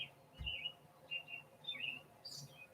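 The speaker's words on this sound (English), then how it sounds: "Sound of the birds, man." Birds chirp outdoors in Bend, Oregon, giving several short, high tweets and trills scattered across a quiet background, with one soft low thump near the start.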